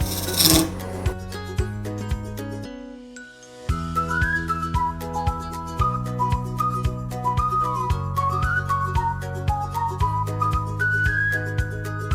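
A wood lathe spins an oak branch while a turning tool scrapes and rasps against it, giving a steady motor whine with shifting whistling tones and rhythmic rubbing, close and continuous.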